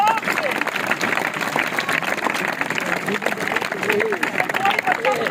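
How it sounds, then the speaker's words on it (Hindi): Children at a school magic show clap together in a dense, continuous burst of applause, with voices and chatter mixed in underneath. "आपकी तालियां बनेगी।"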